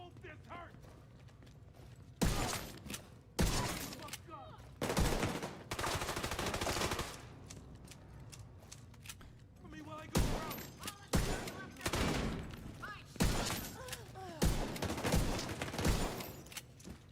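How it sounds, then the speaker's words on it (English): Gunfire in The Division 2 on realism mode comes as several loud bursts of rapid automatic fire separated by quieter stretches, close and punchy, with no voices. "It's like so weird shooting a gun in realism mode."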